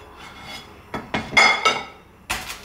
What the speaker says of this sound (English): this is my first time chopping up crispy pork belly